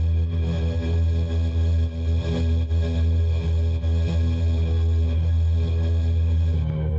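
A dense, buzzing synthesized tone with breathy vocal character pulses in a steady rhythm over a deep sustained drone, continuous and loud throughout.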